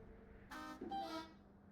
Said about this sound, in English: Wait, who honked?